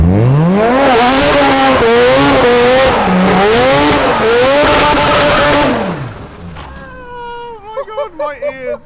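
Mazda RX-7 FD rotary engine screaming at high revs while drifting, loud and close with rising and falling pitch sweeps for about six seconds, then dropping off into shorter, quieter revving bursts at the end.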